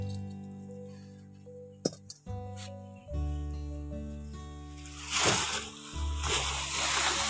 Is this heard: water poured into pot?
yes